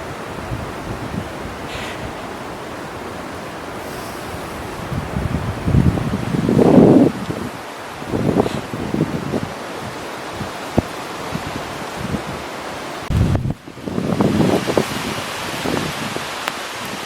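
Wind blowing through a garden in gusts, a steady rushing roar of stirring leaves and branches that surges louder several times, with no voices.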